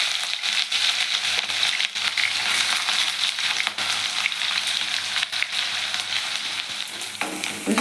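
Bay leaf, cloves, cinnamon and onion pieces sizzle and crackle steadily in hot oil for chicken liver curry, with occasional stirring scrapes, loud and close throughout.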